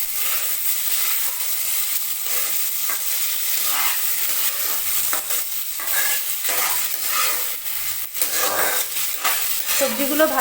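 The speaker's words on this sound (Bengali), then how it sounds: "সবজিগুলো ভাজা ভাজা হবে।" Mixed vegetables fry in hot oil with curry leaves for a South Indian kootu, a loud, close, continuous sizzle broken by repeated scraping strokes of a spoon against the pan.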